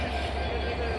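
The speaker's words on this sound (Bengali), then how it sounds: "চাপা এক্সপ্রেস ট্রেনটি বর্তমানে পার্বতীপুর জংশনে ইন করলো" The Dolanchapa Express rolls into Parbatipur Junction, giving a steady low rumble of rail wagons with faint wheel noise in a short, moderately quiet stretch, and a voice is faintly present.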